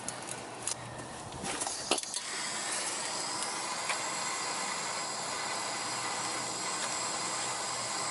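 Steady broadband hot-air roar of a heat gun aimed at a brake bleeder screw on a Firus vehicle, starting after a few brief clicks and holding constant and close for several seconds, with no talk.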